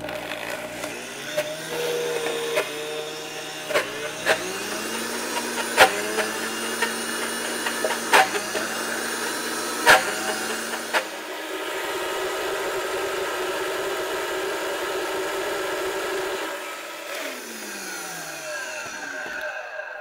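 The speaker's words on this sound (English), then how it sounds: "you want to be watching for the mixture to be coming up the sides of the blender, back door into the middle" A countertop blender whirs continuously, blending a thick vegan nacho cheese mixture, its motor pitch shifting as the contents churn; sharp clicks and knocks punctuate the first half before the steady roar takes over, then it winds down near the end.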